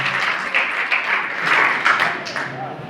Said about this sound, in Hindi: जोरदार तालियां हों एक बार।